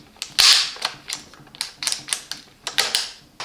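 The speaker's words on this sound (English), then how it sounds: "with one press of a button you can fold and unfold the pedal" Folding pedal on a DYU C2 16-inch folding electric bike is pressed, folded and unfolded, giving a run of sharp, close mechanical clicks and clacks in an irregular rhythm with no talking.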